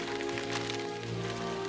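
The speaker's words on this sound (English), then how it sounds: "Sorry about the rain." Steady rain falling on a surface, a continuous dense patter of drops at even loudness throughout, with no voices.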